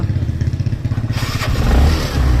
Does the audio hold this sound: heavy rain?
no